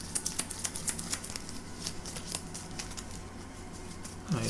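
Objective cards from the Star Wars card game being shuffled by hand on a table, a quick run of soft riffling snaps at the start, then lighter shuffling and handling noises that thin out toward the end.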